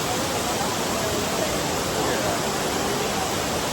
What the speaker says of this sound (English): Look at that fall.